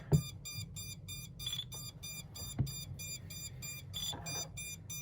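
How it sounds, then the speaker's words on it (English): A Radiomaster TX16S radio transmitter in bind mode gives a steady run of regular, evenly spaced electronic beeps, close and fairly quiet, over faint background hum with no voices. "The radio is starting to beep, letting us know that it is in bind mode."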